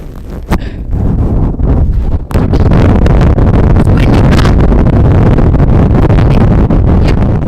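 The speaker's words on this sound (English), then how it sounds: "Just can you feel this wind? You can't feel it, but you can hear it." Strong wind blows across an outdoor microphone in loud, continuous gusty rumbling and buffeting, with a brief lull just after two seconds and no talk.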